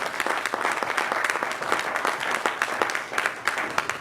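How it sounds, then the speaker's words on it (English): Lively audience applause at a community event, many hands clapping in a dense, uneven patter that stays close and fairly loud throughout. "Give him another round of applause, please"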